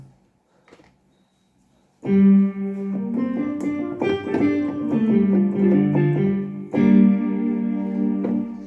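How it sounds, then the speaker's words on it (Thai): A Korg X5 synthesizer plays sustained, richly harmonic chords after a brief silence, shifting notes in the middle and swelling again near the end. "อันนี้คือเสียงของคอก X5 นะครับ"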